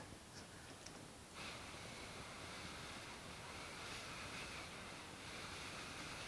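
Dental water spray rinsing a tooth during ceramic veneer bonding, a steady, close hiss of spray that starts after a second of quieter noise and continues evenly to the end.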